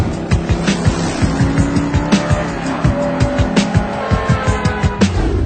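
A 2008 Lamborghini Gallardo Spyder with 520 horsepower revs and drives hard, its engine note loud and close with rapid rhythmic pulses and sharp bursts, tires squealing along with it, and no talking.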